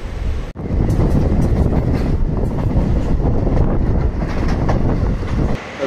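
Train carriage rattling and clattering steadily during a ride aboard a passenger train, loud, continuous rumble with wind buffeting, no talking.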